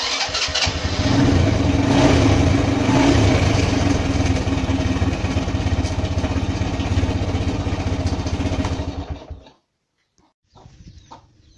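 A motorcycle engine on an Indonesian underbone moped runs loud and steady close by after a side stand switch is wired in, then cuts off abruptly near the end, leaving faint sounds.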